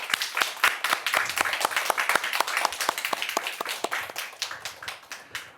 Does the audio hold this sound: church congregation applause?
yes